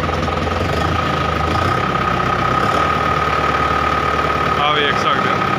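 A Preet 6049 tractor, 2020 model, idles at low revs with a steady knocking diesel rumble close by, loud and unbroken, with a brief squeaky sound near the end.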